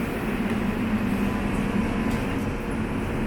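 Inside a moving transit train, a steady, loud rumble and whir of wheels and motor fills the car without pause, with no distinct voices rising above the continuous ride noise.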